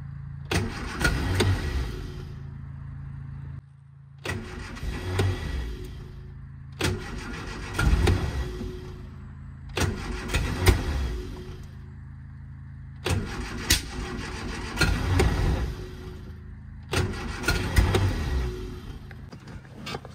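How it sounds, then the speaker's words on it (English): A carburetted Lotus Elan engine cranks in six separate bursts of a few seconds each, the starter whirring while the engine tries to catch but never settles into running, with short silent gaps between attempts. "Hopefully we should just get it to fire up."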